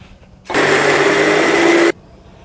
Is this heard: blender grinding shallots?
yes